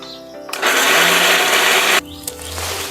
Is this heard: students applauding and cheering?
no